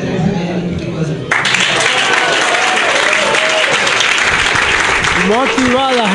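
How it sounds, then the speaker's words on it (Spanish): Media members applaud an Ecuadorian Olympic medal-winning athlete, with a sudden burst of loud, dense clapping from a crowd that continues steadily, while a voice speaks under it at the start and end. "Motivada, Génesis Reasco, y se gana el aplauso de los medios de comunicación."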